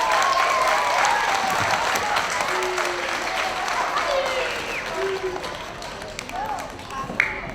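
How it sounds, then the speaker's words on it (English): A school crowd applauds students receiving certificates, a dense, sustained burst of clapping from many hands that slowly tapers off, with voices and cheers mixed in. "Let's give all of our students that got a certificate so far today a big round of applause"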